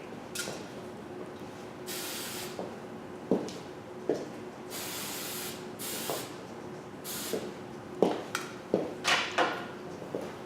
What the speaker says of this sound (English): Spray the base, spray everything